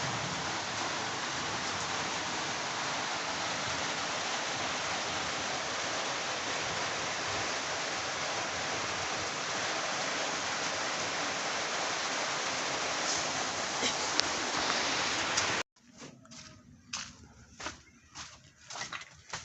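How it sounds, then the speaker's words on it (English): Heavy rain pours down steadily in a village, a dense roaring wash that stops abruptly near the end, leaving faint drips and patters. "It is really raining so heavily in the village"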